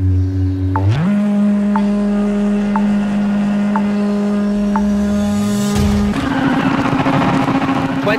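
A rally car engine in the video game WRC 7 idles, then revs and holds a steady drone with periodic gear-like blips, ending in a louder roar with gravelly rumble; no talking.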